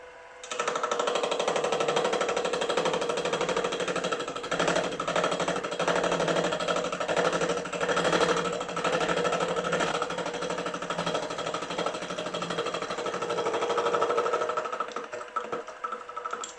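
A machine cutting a gear tooth for a crankshaft gear on a 2-inch Fowler Showman's traction engine model, a steady, rapid mechanical chatter that runs continuously and close, then stops near the end.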